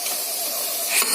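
Pressure cooker boiling rose apples releases a continuous hiss of steam that swells and sputters louder in the final moments.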